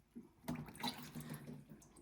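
Water is poured from above onto a potted succulent, a soft splashing trickle that starts after a brief quiet moment and runs steadily, faint and close.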